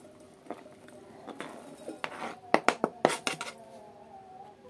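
A quick rattling pour of chopped peppers into a container, a short burst of clattering patter after some faint handling noises.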